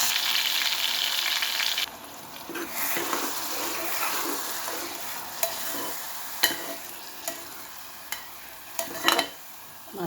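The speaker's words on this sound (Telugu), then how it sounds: "ఈ మసాలా ముద్ద పచ్చి వాసన పోయేంత వరకు వేయించుకోవాలి" Masala paste frying in a pan for a raw-mango dish, giving a steady close sizzle broken by scattered sharp taps and scrapes of stirring.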